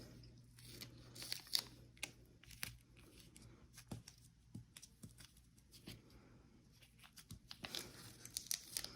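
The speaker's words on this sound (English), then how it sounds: "And we're gonna take off the tape." Tape peeled away from a wire sculpture in a series of quiet ripping and crinkling bursts, spread unevenly across the stretch with brief pauses between pulls, close by and fairly faint, with no talking.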